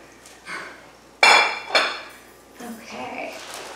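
A plate is set down onto a kitchen counter while French toast is being prepared, giving a sharp ceramic clink followed by a second knock and some light rattling of dishes.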